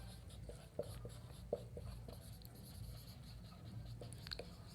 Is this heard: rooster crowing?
no